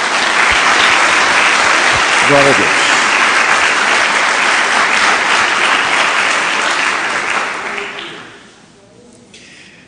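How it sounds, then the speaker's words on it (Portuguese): A church congregation claps in loud, sustained applause that fills the room for about eight seconds before fading, with a voice calling out briefly over it. "Dê uma salva de palmas a Jesus."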